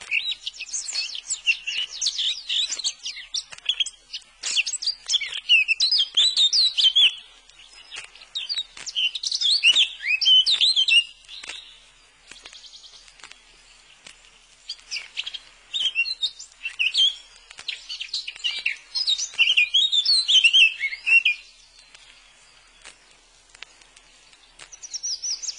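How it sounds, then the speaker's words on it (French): A male blackcap sings outdoors in repeated bright, warbling phrases of a few seconds each, separated by short pauses and continuing for about twenty-five seconds, clear and close, with no voices. "Non, c'est la fauvette que je t'avais promise. Le mâle de la fauvette."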